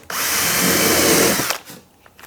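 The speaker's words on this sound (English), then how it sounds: "So I have here the drill." A power drill drives a 1/2 inch number 6 countersunk screw into the plywood back of an armoire, a loud, steady whir lasting about a second and a half before cutting off abruptly.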